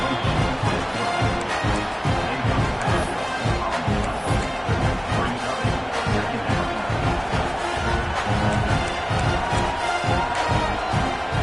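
Dense, roaring stadium crowd at a TCU football game, cheering and shouting continuously throughout, loud and steady with rhythmic surges of noise.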